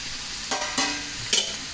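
Shredded cabbage frying in oil in a pan, three quick scraping stirs over a soft continuous sizzle, close up with no voices.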